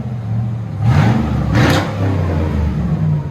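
Cadillac with a dual-in, dual-out muffler merging into a single exhaust revving nearby: a loud, steady engine drone that swells in two throttle blips around the middle, then settles back to idle, with no talking.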